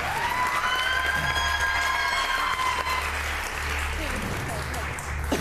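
A studio audience applauds a contestant on a pantomime league game show, a dense clapping crowd with some cheering, while a host's voice and a rising electronic tone run over it.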